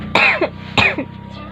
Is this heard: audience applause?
no